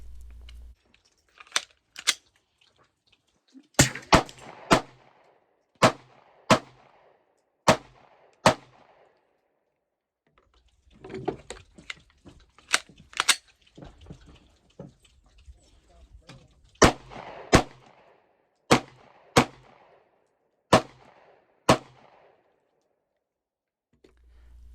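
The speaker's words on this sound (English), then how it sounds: "So I have absolutely no complaints from shooting this handgun" A Zev Tech OZ-9c Hypercomp Glock handgun fires sharp, loud single shots in spaced strings, with a short pause midway, heard at close range outdoors.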